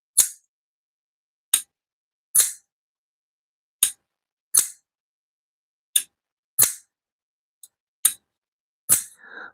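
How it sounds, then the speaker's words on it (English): A folding knife snaps open again and again, about ten crisp metallic clicks spaced irregularly, close and sharp against silence. "Folks, that is the sound of one amazing American knife that Caleb will be giving away"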